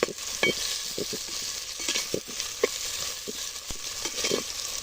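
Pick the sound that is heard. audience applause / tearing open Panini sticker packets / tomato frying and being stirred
tomato frying and being stirred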